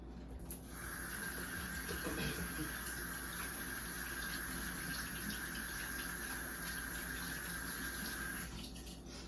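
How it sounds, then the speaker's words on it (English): Water streams steadily from a tap into a sink as hands are washed in a home kitchen, a continuous close hiss that starts abruptly and cuts off near the end. "I'm gonna wash my hands"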